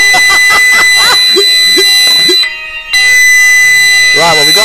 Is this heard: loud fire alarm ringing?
yes